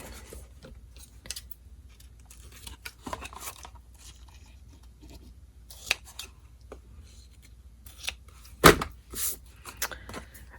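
Scissors snip through ribbon on a snowman-themed craft box, a few sharp close cuts spread among quiet handling rustles, with one louder snip near the end.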